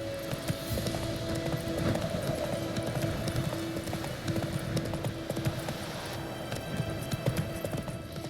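Roach the horse gallops in The Witcher 3, hooves drumming in a quick, steady clip-clop rhythm throughout over a low hum of ambient sound.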